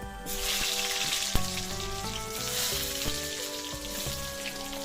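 Potatoes fry in hot oil in a pan for a Bengali country chicken curry, giving a steady, close sizzle with faint crackles and a few sharp clicks of utensils.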